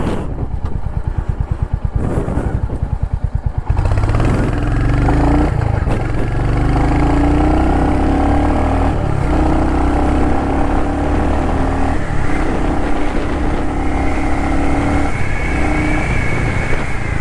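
A 2025 Royal Enfield Hunter 350 motorcycle in London Red pulls away from a thumping idle and accelerates hard from 0 to 60, its engine note rising through the gears, loud and close, with wind rush.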